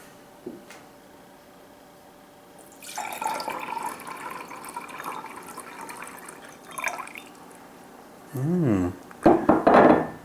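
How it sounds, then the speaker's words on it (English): Water poured from a drinking cup into a measuring cup in the kitchen, a sustained trickling fill lasting several seconds, followed by small knocks and a short voiced sound near the end. "I'm going to pour it into a measuring cup to see how much it does add up to be"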